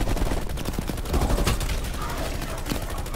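Dense rapid gunfire in Cold War Zombies, a continuous fusillade of close shots filling the scene while a player talks over it.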